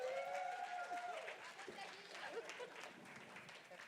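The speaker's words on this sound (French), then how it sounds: "Est-ce qu'on pourra applaudir, s'il vous plaît?" Audience at the RAF 2023 gala applauds an award winner, a sustained ripple of clapping and crowd noise beneath a voice and cheers that carries on for several seconds.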